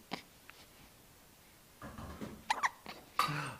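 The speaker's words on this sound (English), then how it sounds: "You have the hiccups." A baby hiccups several times in short, sharp bursts, with faint breathing and small rustles between them; the hiccups are close and grow louder toward the end.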